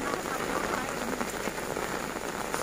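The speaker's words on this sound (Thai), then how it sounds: "พี่น้องเอ้ยฝนตกจักๆกัน" Heavy rain pours steadily onto an open-air market, a dense continuous hiss of drops drumming on surfaces, loud and close with no pauses.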